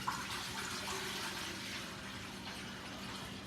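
A gallon of water pours steadily into a container for a tequila lime chicken brine, a constant close rushing gush with no talk over it.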